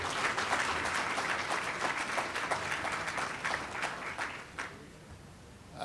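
Sustained applause from an audience at a prayer breakfast honoring Martin Luther King Jr., steady dense clapping that carries for about five seconds before thinning out near the end.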